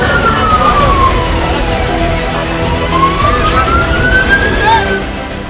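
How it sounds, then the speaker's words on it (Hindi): Air raid sirens wail across Tel Aviv, their rising and falling tones sweeping slowly over a loud, constant wash of background noise. "ईरान के जवाबी हमले से इजराइल की राजधानी तेल अवीव में रात भर यूं ही हमले वाले सायरन बज रहे हैं।"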